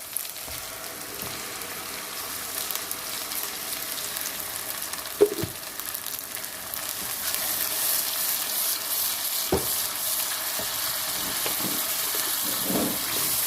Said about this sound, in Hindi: अब इसमें हम 2 टमाटर जो हमने ग्राइंड किए थे वो डाल देते हैं।